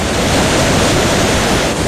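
A mountain waterfall pours down with a loud, steady rushing roar of falling water that fills the whole stretch, with no voices.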